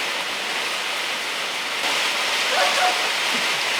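Heavy rain water pouring off a roof and gutter, a dense, steady hiss of rushing, splashing water that swells slightly toward the end, with no talk over it.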